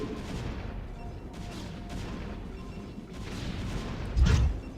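Battle gunfire and explosions in StarCraft: Brood War, a dense steady rattle of shots with a louder boom near the end, alone without talk.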